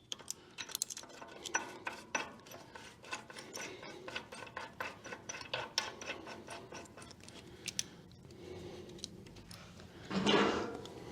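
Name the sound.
tightening bolts on a Babbitt bearing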